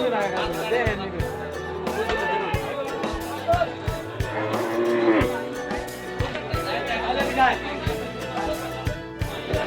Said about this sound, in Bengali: ছোট বড় সব সাইজের গরু আছে আজকের হাটে, বড় ছোট মাঝারি।